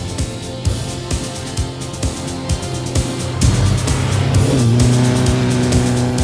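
A black military dune buggy fast attack vehicle drives hard, its engine loud and close with repeated bumps and clunks, then a rising, sustained rev toward the end.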